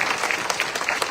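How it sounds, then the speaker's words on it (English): A steady burst of crowd applause, dense and continuous clapping from many hands, heard briefly without speech. "Let's give them another round of applause."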